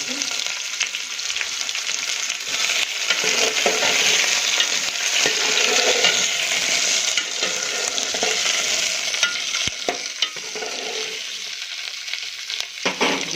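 Green chili, ginger, garlic, tomato and onion fry and are stirred in a pan, giving a steady close sizzle with scraping stir strokes throughout, no voices.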